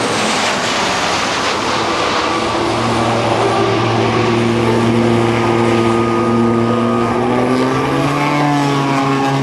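Army Sherpa fixed-wing cargo plane flying past at an airshow, its propellers producing a loud, steady droning hum with rising and shifting tones over rushing air noise.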